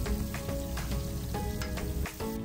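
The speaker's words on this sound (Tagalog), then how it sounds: "Kapag golden brown na yung bawang, isunod na natin yung sibuyas." Onion sautéing in hot oil with golden-browned garlic for a Kapampangan-style chicken afritada, a steady close sizzle with soft stirring clicks running continuously and alone.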